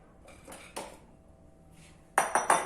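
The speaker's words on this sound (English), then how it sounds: "We're just going to put our ice in." Ice cubes drop into a blender in a few hard clinking clatters, with scattered light knocks first and then a cluster of three sharp, loud impacts close by.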